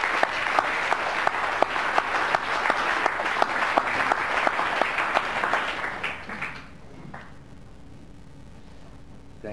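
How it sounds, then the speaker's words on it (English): Audience at a lecture event breaks into sustained clapping with sharp individual claps, then it tapers off into a quiet room. "There's applause."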